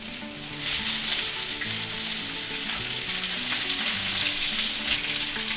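Lobsters fry in a hot pan for lobster curry, a strong continuous sizzle that jumps up as they are added, with faint stirring and no speech.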